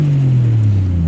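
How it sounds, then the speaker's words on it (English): A dark green Toyota Mark II JZX100 with a 1JZ engine holds a steady, deep low rumble, close and loud throughout, with the pitch sagging slightly midway as the revs ease. "we have a JZX100 Toyota Mark II in a lovely,"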